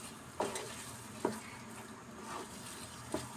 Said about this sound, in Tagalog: Ganyan lang po yung paghalo